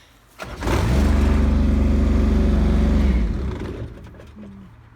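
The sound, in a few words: tractor engine starting and running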